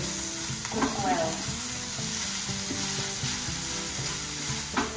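Ground pork browns in a pan for spaghetti meat sauce, a steady close sizzle broken by a few stirring scrapes, with no voices.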